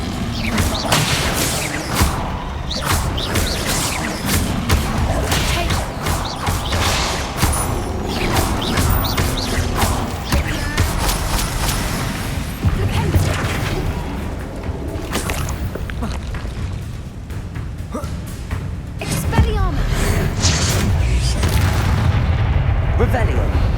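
Repeated Bombarda spell blasts in the video game Hogwarts Legacy, loud booming explosions mixed with clattering debris and mechanical rumble, continuous and dense throughout with no talk.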